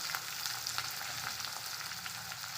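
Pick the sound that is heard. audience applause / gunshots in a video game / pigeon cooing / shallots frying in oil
shallots frying in oil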